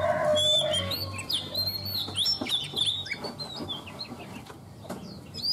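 A female Chinese hwamei songbird, a caged bird, gives bright, varied chirps and short whistled phrases, fairly close but soft, mixed with other birds and faint rooster-like clucking in the background.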